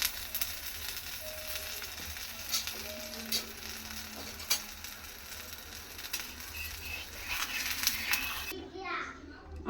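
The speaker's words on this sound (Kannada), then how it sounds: "ಸ್ವಲ್ಪ ಸುತ್ತ ಎಣ್ಣೆ ಹಾಕ್ತೀನಿ." An aloo paratha fries on a hot griddle with oil around its edges, a steady crackling sizzle while children's voices chatter in the background.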